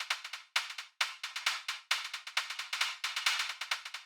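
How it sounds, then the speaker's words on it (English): A dirty, distorted hi-hat sample from a music production loop, rapid bright grooving hits with sharp attacks and short decays, repeating in tight clusters, loud and alone. "The dirt hi-hat. What is a dirt hi-hat?"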